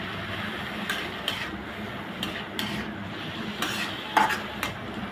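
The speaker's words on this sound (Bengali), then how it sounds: "এখন ভালো করে মিশিয়ে নেব।" Spiced vegetable, teasel gourd with turmeric, chilli and coriander powder, is stirred in a frying pan, with soft sizzling under a series of scraping spoon strokes and a brief clink, fairly quiet and close.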